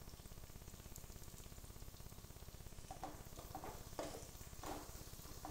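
Grated coconut with turmeric fries gently in oil for coconut rice, giving a soft, steady sizzle close by with a few faint scrapes of stirring.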